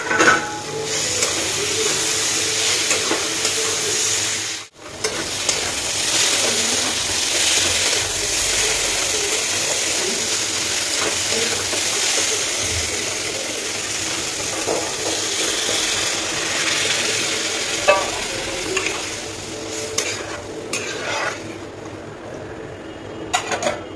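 Fried potatoes and soybean chunks tossed into spices in a pan: a continuous close frying hiss, broken by a brief pause near the start, with occasional scraping and clinking of stirring.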